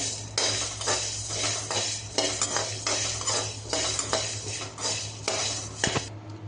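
Cloves and black pepper dry-roasting in a pan are stirred with a metal spoon, giving repeated close scraping and rattling strokes in an even rhythm over a low background hum, with no talking.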